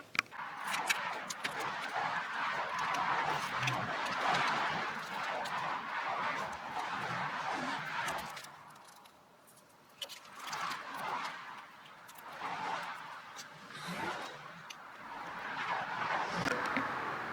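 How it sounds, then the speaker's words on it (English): Busy street traffic drifts in through an open garage door during a Miata engine build, a steady wash of passing cars that swells and fades in overlapping waves, with a brief quieter lull midway. "the garage door is open and I live on a busy street right now."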